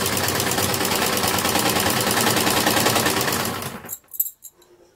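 Sewing machine stitching the edge of palazzo pants, with a fast steady mechanical whirring rattle for several seconds before it stops, followed by a few soft clicks.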